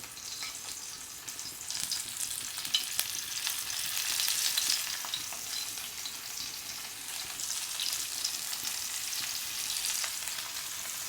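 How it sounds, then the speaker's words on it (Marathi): Pomfret fish coated in semolina fries in oil over a low flame, a soft, continuous sizzle and crackle with faint spatter, fairly quiet and with no voices. "आपण आता यामध्ये हे जे पापलेट आहे तेलामध्ये व्यवस्थित तळण्यासाठी टाकूयात"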